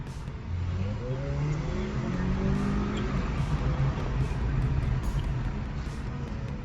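A Skoda Octavia 1.8 TSI with a DSG gearbox and Stage 1 tune accelerates hard at full throttle, its engine note climbing steadily and droning continuously from inside the cabin.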